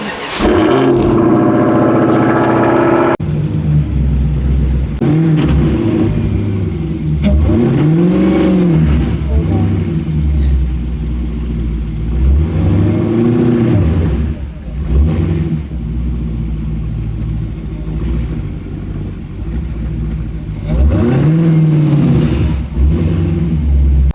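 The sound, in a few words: Dodge Hellcat spinning its tires stuck in snow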